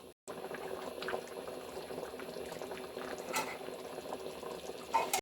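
Aloo gosht curry bubbling steadily in a pot, a close, continuous simmering boil with soft pops and a brief metallic clink near the end.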